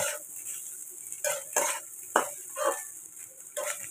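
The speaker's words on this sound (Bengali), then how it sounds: "এবার আমি দেখো এই যে চিড়েটা কিন্তু আমি দিয়ে দিচ্ছি" Flattened rice (chira) goes into a pan of cooked vegetables, heard as several separate bursts of scraping and rustling as the spoon works against the pan over a faint sizzle. No one speaks.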